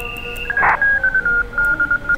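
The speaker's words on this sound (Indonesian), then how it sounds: "Jadi kalau komputer lagi komunikasi kayak gini suaranya" Computer data communication sent over a radio link chirps in a run of rapid pulsed tones, loud and near, with a brief burst of noise early on.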